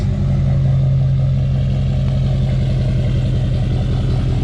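A tuned GMC Denali truck engine idles close by with a deep, steady rumble and even low throb, loud and unbroken without any clear rev.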